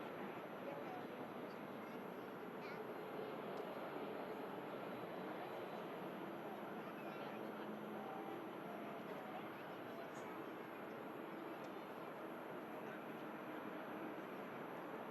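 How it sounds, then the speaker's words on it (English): A Ryanair jet from Bologna, operated by Malta Air, touches down at Manchester Airport, heard as a steady, distant broadband roar that holds at an even level throughout with no distinct peaks. "Another silky touchdown"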